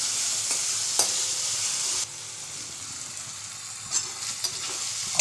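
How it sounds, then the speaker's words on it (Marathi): Potatoes and tomatoes with coriander and chilli frying and being stirred in a pan, a steady close sizzle with occasional scraping clinks of the spoon, slightly quieter after the first couple of seconds. "टॅमॅटो बटाट कोथिंबीर मिरची सगळं मिक्स केलं जाईल."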